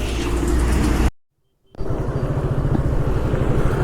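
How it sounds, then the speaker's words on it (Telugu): A motorcycle engine rumbles steadily at the start of a ride in Punjab, cuts to near silence for about half a second, then resumes with a pulsing idle close by. "బైక్ రైడ్ స్టార్ట్ అవుతా నేనైతే"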